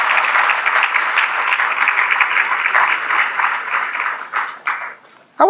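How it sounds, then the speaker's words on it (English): Dinner guests at a formal awards banquet applaud medalists with sustained, even clapping for several seconds. The applause thins into a few scattered claps before stopping, and a voice starts up at the very end. "a round of applause for the medalists"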